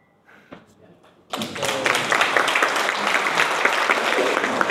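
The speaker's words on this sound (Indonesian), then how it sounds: "tepuk tangan buat Romo Bono" During a book discussion event, a moment of near quiet with a faint voice gives way to an audience breaking into applause for the speaker Romo Bono, clapping that starts abruptly and stays steady and fairly loud to the end.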